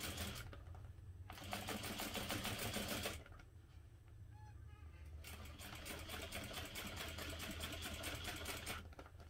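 A sewing machine topstitches a holiday armadillo stocking, its steady mechanical whir running in two long stretches separated by a short quieter pause, close and fairly loud.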